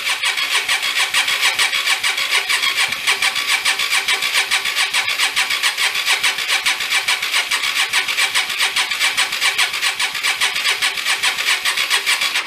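A Hyosung Aquila motorcycle, dead for nine years after failing mid-ride, runs loud and close with a fast, even pulsing engine note, held steady under light throttle with no talking.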